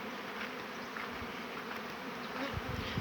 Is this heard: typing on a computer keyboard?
no